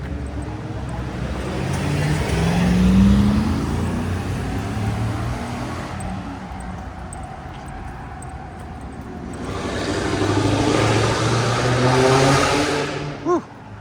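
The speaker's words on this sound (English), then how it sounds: "Some loud cars in Nicholasville today." Loud cars driving through a small-town downtown street in Nicholasville, Kentucky, engines swelling as they approach and pass close by, two main surges of road noise with a brief quieter stretch between them.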